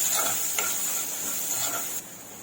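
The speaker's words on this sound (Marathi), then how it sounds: "हे सर्व मसाले आपण चांगले असे परत परतून घेऊया" Ground spices with coriander powder being sautéed in a pan for restaurant-style bhindi masala: a steady close sizzle and hiss with a few soft stirring scrapes, no voices.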